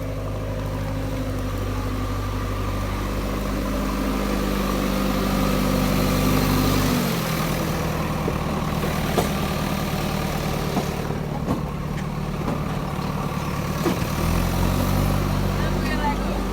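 A bulldozer engine runs on a rough gravel road: a loud, close diesel rumble that shifts in pitch twice as the throttle changes, with a person talking over it.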